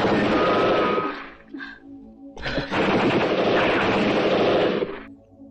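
Gunfire in a battle between outnumbered Indonesian fighters and Dutch troops: loud, dense bursts of shots and blasts that rattle on for about a second, drop briefly, then return in a longer sustained barrage before cutting off.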